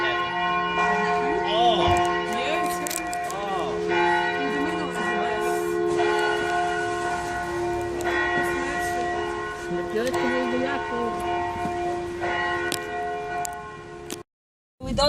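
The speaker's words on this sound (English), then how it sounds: "That bell is ringing for a minute." Church bell ringing in a Croatian town, a steady ringing that runs nearly the whole time with overlapping tones, joined by brief street noise and distant voices before a sudden cutoff near the end.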